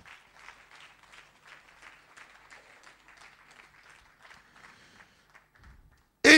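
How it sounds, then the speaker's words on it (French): Faint, patchy clapping from a church congregation, soft and distant, fading out before a sudden loud sound cuts in at the end. "Applaudissez Jésus."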